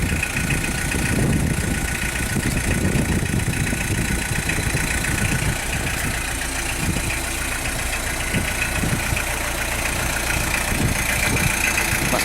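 A Citroën BX idles steadily and close by, a constant engine drone that fills the whole stretch while its hydropneumatic suspension is lowered to normal ride height.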